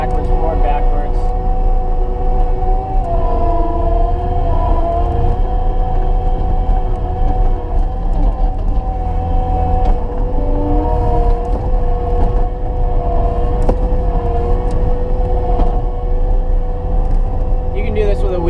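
A tracked skid steer loader spreading topsoil, driving forward and backward, gives a loud, continuous engine drone whose pitch rises and falls slightly as it works.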